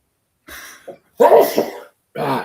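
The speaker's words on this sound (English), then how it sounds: "I'm going to sneeze" A close, loud sneeze preceded by a couple of short breathy intakes, followed by a brief vocal sound afterward.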